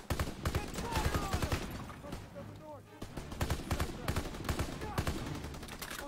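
Gunfire in a WWII shooter game, with dense bursts of rapid shots rattling on and off throughout, loud and close, broken by a short lull, with voices speaking over parts of it.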